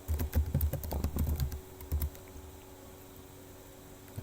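Fingers type on a computer keyboard while entering circuit values into LTSpice: a quick, close clatter of keystrokes for about two seconds, then near silence with one last tap at the end.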